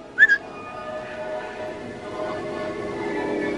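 A person whistles a short, sharp two-note call at the start, standing out briefly over a faint, steady background hum in a 1950s German-language film scene.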